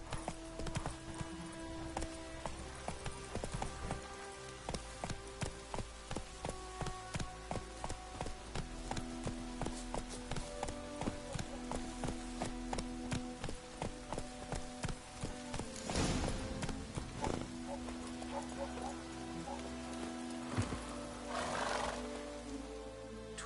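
Geralt's horse Roach in The Witcher 3, steady clip-clop hoofbeats trotting in an even rhythm, with louder snorting and neighing bursts near the end over a quiet ambient backdrop.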